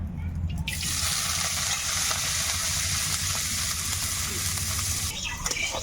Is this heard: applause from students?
no